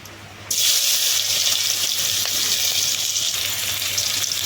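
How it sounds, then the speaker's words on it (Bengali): Onion pieces hit hot oil in a Bengali home kitchen: a sudden loud sizzle bursts in after a quiet half-second, then a steady, dense frying hiss runs alone to the end, with no talk. "এই তেলে পেঁয়াজটা দিয়ে দেবো"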